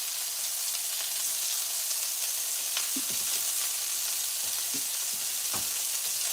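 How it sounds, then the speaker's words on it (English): Burger patties sizzle steadily in a pan as they fry, a continuous hissing crackle with occasional louder pops and spits, heard alone at close range. "the patties are really sizzling"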